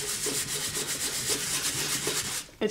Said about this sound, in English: let's try it with the lighter sandpaper and see what we get